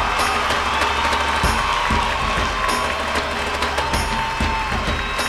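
Loud crowd applause and cheering fill the room steadily on a Bhojpuri music stage show, welcoming a singer from Ranchi, with whoops and shouts over continuous clapping from start to finish.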